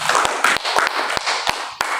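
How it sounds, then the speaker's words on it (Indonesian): A church congregation claps during a sermon, with a steady wash of many hands and a few sharper, louder claps standing out at irregular points, sounding close and filling the room at a fairly strong level. "Berikan tepuk tangan"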